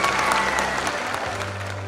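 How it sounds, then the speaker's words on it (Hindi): Loud, steady applause from a seated audience at a recognition program in Jaipur, continuous dense clapping for two seconds with a low hum underneath. "एक बार तालियां गुजरमल मोदी जी के लिए।"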